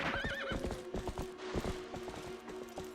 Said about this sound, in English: call our horse, obviously, first off